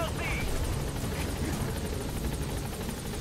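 Helicopter rotor thumping steadily at close range in the stealth-action game Metal Gear Solid V: The Phantom Pain, a dense continuous drone with game voices and talk layered over it.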